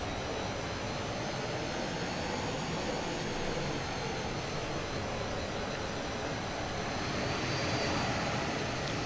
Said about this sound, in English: Just throttling up, throttle down, so we can get some pitch difference.